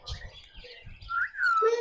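A pet myna bird produces a short run of chirpy, whistled vocal sounds, with a rising whistle near the end, fairly close and moderately loud with no human talk.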